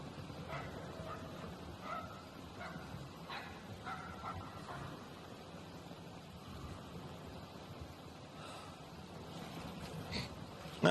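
A dog barks repeatedly at moderate distance in the video game Somerville, with short yips and barks scattered across a continuous low background rumble.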